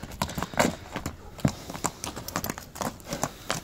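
Hooves of a purebred Kyrgyz horse, a series of irregular clip-clop strikes at a running gait, moderately close and fairly quiet against a rustling outdoor background.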